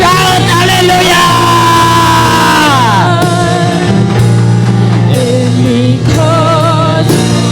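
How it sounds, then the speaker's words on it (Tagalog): Church congregation at a Sunday service shouting and whooping hallelujah together, loud, dense crowd yelling that rises and falls in waves for several seconds. "Sumigaw ka. Shout hallelujah!"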